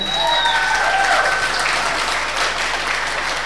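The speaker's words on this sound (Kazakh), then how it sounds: "осы ұстаздарымызды және бір мәрте бір группа болып қол шапалақ ұрып қоямыз ғой" A room of people clapping for teachers at a school reunion, loud dense applause sustained evenly throughout, close and full.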